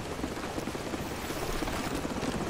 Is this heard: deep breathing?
no